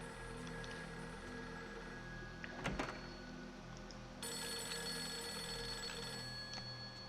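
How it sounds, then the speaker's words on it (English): A telephone rings insistently in the Fatal Frame 3 horror video game, a continuous trilling bell that repeats over low background ambience, clear and uninterrupted by any voices. "Phone's ringing."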